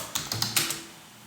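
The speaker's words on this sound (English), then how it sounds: "Now you start typing the text." Five quick keystrokes on a computer keyboard, close and crisp, then the clacking stops and a quiet room tone lingers.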